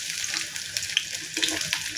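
Chopped garlic dropped into a hot pan for cooking leafy greens gives a steady, close hiss of frying with small crackles throughout, alone without talk.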